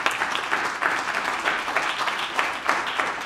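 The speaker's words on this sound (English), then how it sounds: "I think Miss Randolph is due also a round of applause." Audience applause in a hall, a steady, fairly loud patter of many hands clapping that swells slightly in places, with no one speaking.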